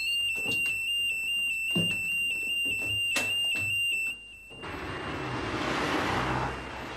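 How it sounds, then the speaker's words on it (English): A high electronic bank alarm tone rings steadily and loud for about four seconds among faint thumps and knocks, then cuts off, leaving a broad background hiss. "Straight into your office and turn off the alarm."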